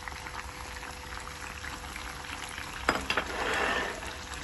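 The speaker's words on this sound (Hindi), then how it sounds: "अभी जो हमने ब्लेंड किए थे सारी चीज़ें, टमाटर और सीड, ये सारी चीज़ें इसमें डाल देते हैं" Blended tomatoes and seeds pour into a chicken karahi pot: a quiet simmer, then a sudden splashy pour, a couple of plops and a rising, bubbling sizzle.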